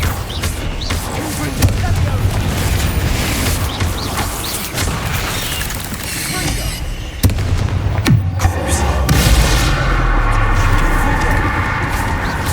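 Confringo spell blasts in the video game Hogwarts Legacy, dense rumbling explosions and booms filling the scene, with a sharp crack partway through and a voice briefly talking over the noise.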